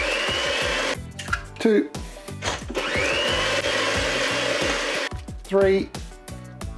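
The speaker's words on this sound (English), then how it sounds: "One egg, and mix that in." An electric hand mixer whirs steadily while an egg is beaten into cake batter for a coffee and walnut cake, with brief pauses and a person counting aloud over the motor.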